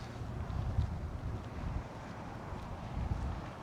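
Wind gusting through an Alaska canyon on a cloudy, cool day, a steady low roaring rush with buffeting pulses against the microphone, continuous and fairly close, with no voices.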